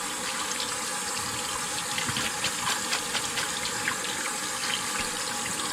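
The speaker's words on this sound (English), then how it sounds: "You want to rinse it off with cold water and continue rinsing off with cold water." Cold tap water pours steadily over cooked macaroni in a colander, a full continuous splashing rush close by, with faint clinks and shifts of the pasta and no voices.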